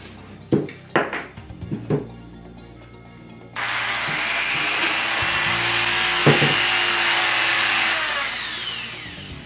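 A power saw cuts a lump off the back of a BBC Micro computer case after a few sharp knocks and taps, the steady whining buzz running loud and continuous for several seconds.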